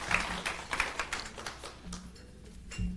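An audience at a civil service public forum gives a round of applause, a fairly soft, steady patter of many hands clapping at a distance.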